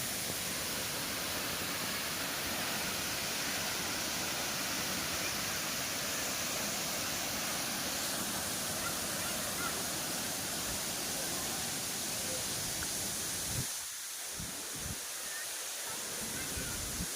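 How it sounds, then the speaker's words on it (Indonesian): Efrata waterfall roaring as a dense, steady rush of falling water, loud and continuous, with a couple of brief dips near the end. "Ini air terjun Prata tuh."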